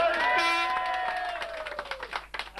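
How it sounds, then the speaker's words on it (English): A crowd cheers and applauds at a 1993 Kilmacthomas versus Clashmore match, with voices shouting over a steady wash of clapping that grows more ragged and sporadic toward the end. "he deserves as much applause as anyone else."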